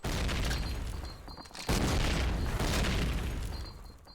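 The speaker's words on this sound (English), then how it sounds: "That's a good nade." A grenade explodes in the video game Call of Duty: United Offensive, a loud booming blast whose rumble rolls on for several seconds, with a sharp second burst partway through.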